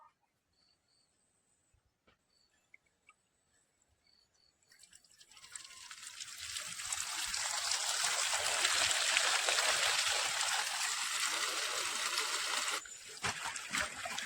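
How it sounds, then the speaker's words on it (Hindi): Well water runs out onto an onion field being prepared for planting. Near-silence with faint bird chirps gives way to a rising, steady splashing gush that stays loud to the end. "देखिए उधर से हमारे कुआं से पानी आएगा अभी।"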